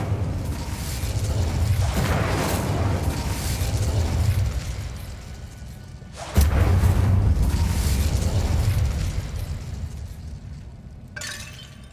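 A fire spell cast in Hogwarts Legacy, with loud rumbling, crackling blasts that swell and fade, then a second sharp burst about halfway through followed by sustained roaring.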